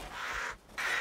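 Crows cawing in the video game Resident Evil Village, two harsh, raspy calls separated by a short gap, fairly close and loud, with no talk over them.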